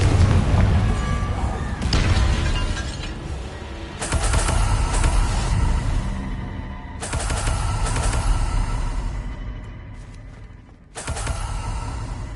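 Confringo explosive fire spell in the Hogwarts Legacy video game, heard as several loud booming blasts in bursts with short gaps between them, dense and close, with no talk over them.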